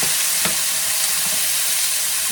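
Food fries in hot baking grease while being stirred, giving a loud, steady, close sizzle with bright hissing and faint scraping clicks from the mixing.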